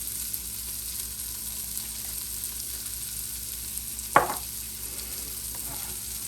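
Chili of quinoa and beans cooks in a pot under a steady low hiss, broken once by a short, sharp clank of a spoon scraping against the pot.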